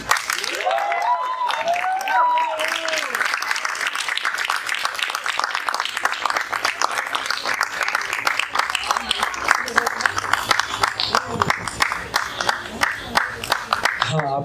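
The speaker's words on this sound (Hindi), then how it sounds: "आपकी तालियों में मजा आया" Audience at a slam poetry event breaks into sustained applause following a spoken-word performance, starting right after a brief bit of talk and continuing steadily as dense clapping.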